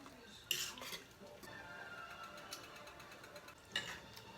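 A spoon stirs creamy chicken soup with half and half in a pot. Faint scrapes and clinks sound against the cookware, with sharper knocks near the start and again near the end.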